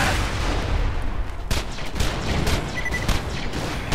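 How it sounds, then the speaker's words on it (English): Rapid gunfire from a gun in the video game Borderlands 2, a dense run of loud, overlapping shots and booms that continues steadily and stays close throughout, with no talking. "I like this gun."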